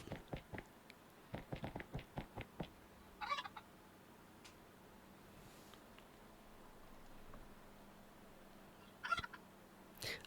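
Video game chicken sounds: clucking and gobbling poultry calls in short bursts, with a quick run of clicks near the start and sparse squawks over a quiet background.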